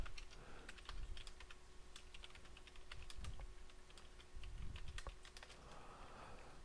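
Rapid, uneven typing on a computer keyboard in a dark room, with clusters of crisp key clicks over a quiet room hum, fairly close to the microphone.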